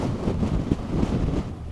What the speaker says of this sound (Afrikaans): Hoor die wind.